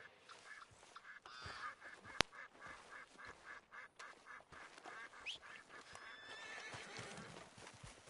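A horse whinnies and neighs in the video game Red Dead Redemption 2, with several calls and hoof clip-clop over outdoor ambience by a lake, moderately close with no talk.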